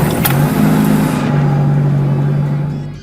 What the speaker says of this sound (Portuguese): E enquanto liga o carro,